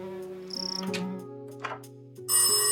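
An old-style telephone rings in The Darkside Detective video game, a tinny electronic trill over a looping synth game soundtrack, with brief bursts of other game sound effects and no voices.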